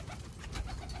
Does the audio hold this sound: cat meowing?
no